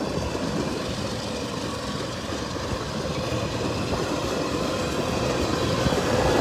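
A CSX freight train with ethanol tank cars rolls steadily past at close range through Hanson, Kentucky, a continuous loud rumble of wheels and rail noise that builds slightly, with no talk.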